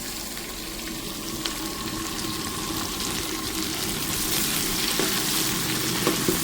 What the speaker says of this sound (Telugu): ఇవన్నీ నెయ్యిలో ఫ్రై అవుతా అయితే ఎక్సలెంట్ స్మెల్ వస్తుంది